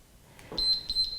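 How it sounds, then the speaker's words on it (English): A workout timer sounds its rest signal: a string of about five short, high electronic beeps in a steady rhythm, clear and fairly close, with no talking over them. "And there's our little rest beep."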